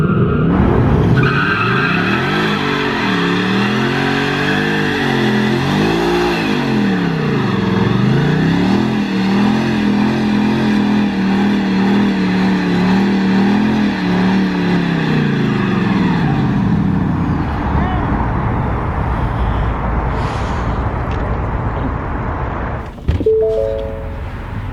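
A 2020 Ford Mustang GT in a line-lock burnout, its V8 revving hard and wavering through gear-like swells while tires scream and skid continuously for about fifteen seconds, loud and close, before the engine drops off and a sharp clunk follows.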